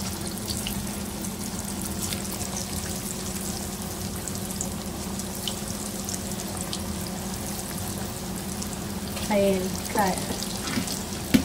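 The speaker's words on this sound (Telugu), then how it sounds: "నూనె కాగిపోయింది, వేసేస్తున్నాను" Bitter gourd pieces dropped into hot oil in a pan, giving a continuous close sizzle, with some clatter and handling noise near the end.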